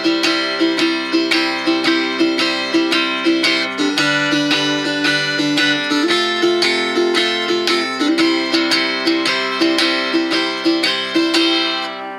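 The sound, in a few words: tenor guitar strumming twelve bar blues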